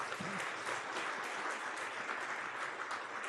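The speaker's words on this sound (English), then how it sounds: "I think a round of applause is." Sustained applause from a large audience at a 2025 Hindustan Times Leadership Summit event in India, a dense, steady wash of clapping that holds evenly throughout.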